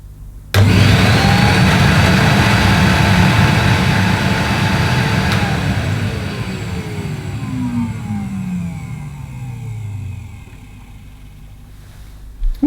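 A vintage Hitachi CV160 bagless vacuum cleaner switches on with a sudden loud motor roar that holds steady, then winds down gradually with a falling whine.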